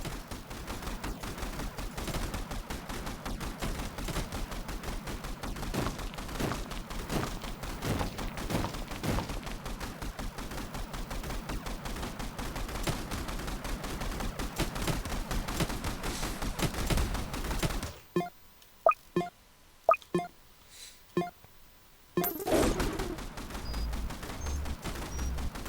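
Max level turret in the Tower Defense Simulator video game firing in rapid, dense bursts of gunfire for most of the stretch, then a short gap with a few scattered shots before the barrage resumes.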